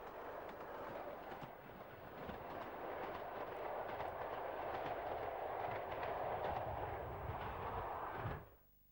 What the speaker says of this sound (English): The train in the distance is crossing on the Norwich to Liverpool Street line